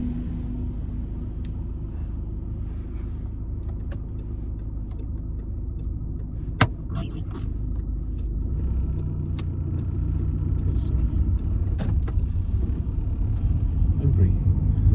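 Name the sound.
car driving during a driving test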